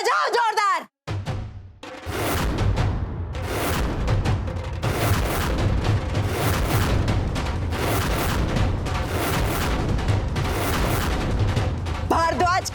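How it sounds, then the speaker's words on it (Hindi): A dhol drum is beaten hard at a celebration, making loud, dense, pounding beats that continue steadily over the crowd noise, after a brief voice and a short pause at the start. "ढोल मारो, बजाओ जोरदार"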